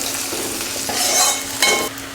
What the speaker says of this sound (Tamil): வெங்காயம் நல்லா வதங்குற வரைக்கும் வதக்கி விட்டுருங்க.